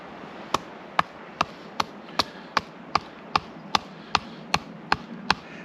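Mora Garberg survival knife batoning through wood, a run of about fourteen sharp, evenly spaced knocks, one roughly every 0.4 seconds, close and crisp over a quiet background.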